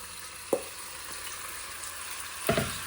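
Beef pieces laid into hot avocado oil in a Dutch oven sizzle steadily, with two sharper bursts of spattering as more meat hits the pan, no voices.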